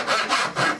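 A hand saw cuts into a piece of wood clamped to a bench for a mitered half-lap joint. Three quick, close rasping strokes follow one another in an even back-and-forth rhythm.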